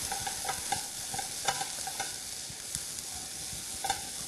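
Potatoes and bell pepper sizzle in a hot pan as a utensil stirs them, a constant frying hiss broken by repeated light scraping taps, close up with no talking.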